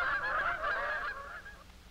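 Canada geese honk while flying, a quick cluster of overlapping nasal honks that stays loud and then fades over about two seconds.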